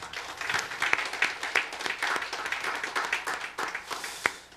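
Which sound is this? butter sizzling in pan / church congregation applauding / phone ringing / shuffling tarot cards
church congregation applauding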